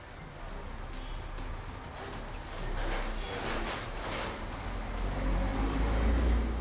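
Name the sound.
many cars and motorbikes passing by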